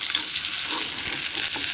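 Slit pointed gourd (potol) fries in hot oil with a dense, close, even sizzle that holds steady for a brief moment.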